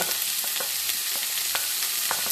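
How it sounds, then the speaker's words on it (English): Jamaican ital curry butterbean ingredients sauté in a pan with little oil, a dense constant hiss with soft stirring scrapes tapping through at intervals, close and steady. "I'm gonna saute this for about 3 minutes."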